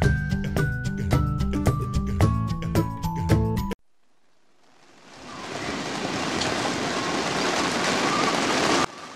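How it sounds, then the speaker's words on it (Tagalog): Steady rain falling on surfaces, a dense even patter that builds in and holds at moderate loudness, following a stretch of unrelated music. "Tama, ito ay tunog ng ulan."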